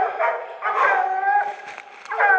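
Hunting dogs bay and yelp repeatedly at a raccoon treed during a night coon hunt in Missouri, loud close barks and whines in overlapping bursts.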